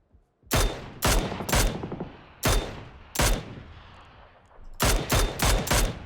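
Gunfire in the PUBG battle royale game: about nine loud, sharp shots in irregular bursts, three early and a quick cluster of four near the end, each with a short decaying tail and no talk.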